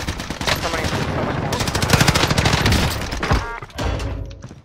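Loud, rapid automatic fire from a C58 rifle in a multiplayer shooter game, sustained bursts rattling close and dense with brief gaps, while players shout over the gunfire.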